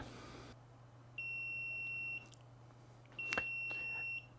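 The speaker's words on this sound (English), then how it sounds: "So it just started beeping. It means it's up to the 185 degrees." A Sunlu filament connector's electronic beeper sounds two long, steady tones about a second each, separated by a short gap, over a low constant hum, signalling it has heated to 185 degrees.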